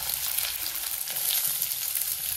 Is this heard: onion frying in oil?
yes